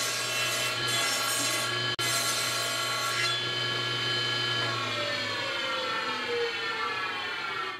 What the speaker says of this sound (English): I need to make a rabbet all the way around to reduce the thickness to 1/4 inch.